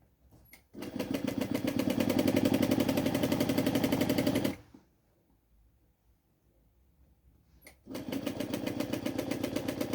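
A home sewing machine stitches a spaghetti-strap blouse, running in reverse to backstitch. It whirs in two loud, steady, rapid bursts, about four seconds and then two seconds long, with a quiet pause between them.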